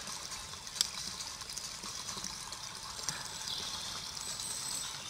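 Water pours steadily into a bottle outdoors during a trail run, a continuous soft gurgling trickle with a couple of small clinks, faint and alone.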